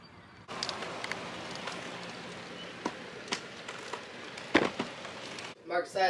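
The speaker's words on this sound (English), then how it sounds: "Now here comes the rain." Rain falling in a storm that brought a tornado: steady broadband hiss of rain across the whole clip, with a few sharper drops or gusts, ending in a brief voice.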